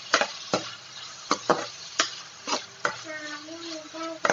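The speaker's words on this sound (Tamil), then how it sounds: "வெங்காயம் நல்லா வதங்கட்டும்." Onions sautéing in a pan for cauliflower masala, a steady sizzle broken by repeated sharp scrapes of a spoon stirring, close up, with a brief voice near the end.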